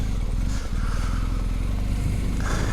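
A BMW R1250 GSA motorcycle spins around on a dirt trail, its engine loud and close with a steady revving drone and some scraping.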